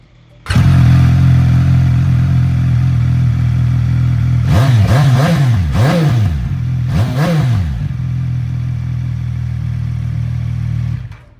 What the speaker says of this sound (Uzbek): Bitta bosib o'raman, mototsikl o'zi zavat qiladi.